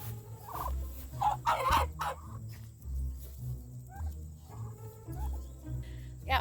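A flock of farm turkeys gobbles in repeated bursts over a low rumbling background, several birds calling at moderate distance in irregular overlapping rhythm.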